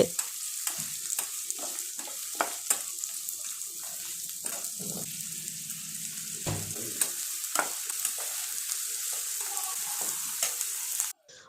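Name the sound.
onions sautéing in pan for squid fry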